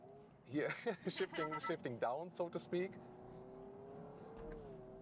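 A 2026 Honda Prelude hybrid making simulated downshift rev blips through third and second gear, rising and falling engine tones in quick succession, followed by a steady, quieter hum, with some talk mixed in.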